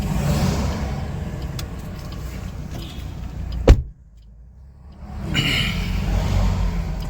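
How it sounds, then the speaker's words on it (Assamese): Cars passing on a narrow road near the Jia Bharali river bridge: loud traffic rushes by, a sharp thump marks a close pass, then a brief lull before more vehicles roar past. "গাড়ী বহুত আহি আছে চাওক।"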